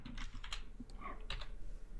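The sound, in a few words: typing code on a computer keyboard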